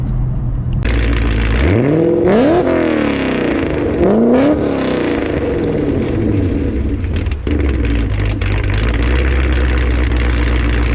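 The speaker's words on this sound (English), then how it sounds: "get an exhaust clip" A built 1000hp Mustang GT500 growls loudly at idle, then its deep modified exhaust revs sharply twice, rising and falling, before settling back into a rumbling idle.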